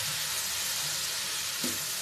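Shredded cabbage stir-fries in spice paste with a loud, continuous close sizzle, and a brief stir or scrape is heard near the end. No one speaks.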